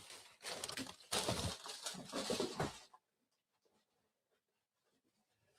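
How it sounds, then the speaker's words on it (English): Paper rustling and crinkling close to the microphone, loud and continuous for about three seconds, then cutting off to near silence with only faint scattered ticks. "All the paper moving around."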